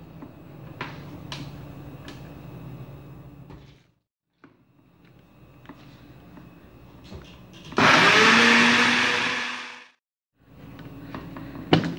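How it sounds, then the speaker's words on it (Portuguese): A kitchen blender whirs loudly for about two seconds as it purées pineapple with half a cup of water, rising abruptly and then winding down, between quieter handling noises and clatter. "Nós vamos bater o abacaxi no liquidificador."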